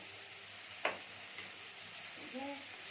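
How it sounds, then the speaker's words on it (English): Tomatoes and chilies sauté in a pan for a Bengali fish curry, a faint continuous sizzle broken by one sharp stir or scrape and a soft utensil sound near the end. "I've added some tomatoes and some chili, and again I'll let it saute for some time."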